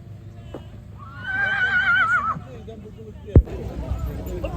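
A draft horse gives a loud, wavering whinny nearby at a horse show and competition, followed by a sharp thud, with people talking in the background.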